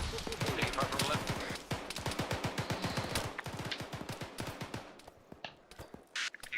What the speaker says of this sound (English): Taking fire from left.